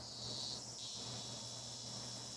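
A chorus of cicadas drones as ambience in a visual novel game, a steady, faint high buzz that holds unbroken throughout.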